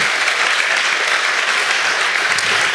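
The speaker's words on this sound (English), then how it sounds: "let's give them a round of applause" Steady, loud audience applause fills a school report event hall, dense clapping from a large crowd continuing evenly throughout with no speech over it.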